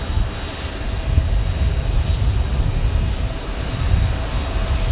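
Loud, steady roar of a CRJ regional jet's engines blasting at Phoenix Sky Harbor airport, a dense broadband rush with heavy low rumble holding at near-constant level throughout, no voices.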